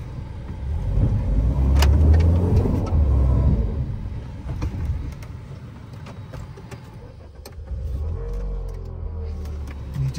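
A car engine labours on a rough mountain road in Keran Valley near the India-Pakistan Line of Control, a loud rumbling drone that swells, eases in the middle, then rises again, with rattling clunks and no talk.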